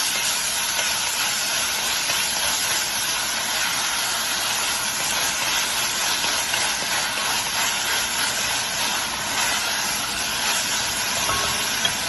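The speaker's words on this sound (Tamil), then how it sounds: "இப்போ வந்து பாத்தீங்கன்னா வெங்காயம், தக்காளி நல்லா வதங்கிடுச்சுங்க." Onion and tomato sautéing together in oil in a pan give a steady, close, broad sizzle that holds evenly throughout with no voices.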